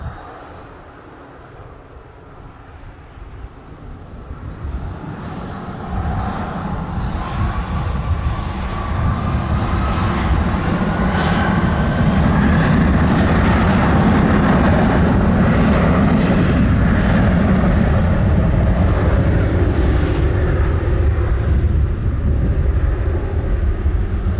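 A United airliner takes off at Montego Bay airport, its jet engines building from a distant hum to a loud, broad roar that holds steady and close as it accelerates down the runway.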